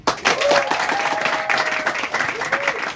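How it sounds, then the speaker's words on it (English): Comedy club audience applauding during a stand-up show, a sustained wash of clapping with a few voices and a whoop rising above it. "Ladies and gentlemen, this is your applause"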